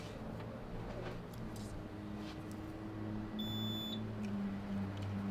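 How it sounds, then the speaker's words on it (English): A timer on a newly installed 110 volt outlet and switch unit gives a short series of faint high electronic beeps over a steady low hum once power is restored, with no voices. "Beeps indicating I have power to my timer"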